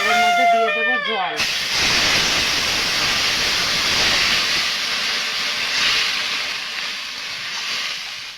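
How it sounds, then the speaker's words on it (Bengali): Water hits hot oil in a wok with a sudden loud burst of hissing steam that holds strong and slowly settles to a continuous sizzle, after a brief tonal sound at the start. "এই তেলের মধ্যে দিয়ে দেবো জল"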